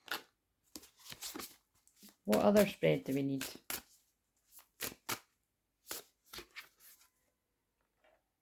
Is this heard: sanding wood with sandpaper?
no